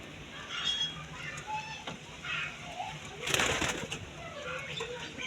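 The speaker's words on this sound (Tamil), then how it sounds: "நம்ம கூண்டில் இருக்க புறாக்கள் எந்தெந்த புறாக்கள் எந்தெந்த ஜோடி" Pigeons in a backyard pigeon coop coo in repeated low, throaty phrases at close range, with brief bursts of wing flapping among them.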